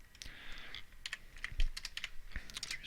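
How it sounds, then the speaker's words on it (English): Close, crisp keystrokes on a computer keyboard while entering details on a website, with irregular clusters of clicks and short pauses, no voice. "So I always like to try and type it in myself anyways."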